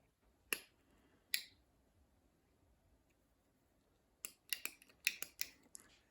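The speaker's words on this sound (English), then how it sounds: "Cut the tag ends." Scissors snip fishing line tag ends while a reel is spooled: two crisp isolated cuts, a pause, then a quick cluster of sharp snips, close and quiet against a silent background.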